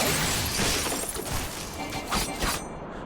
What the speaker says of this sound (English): I don't know why that one makes the glass shattering sound that it does, though. Frost grenades.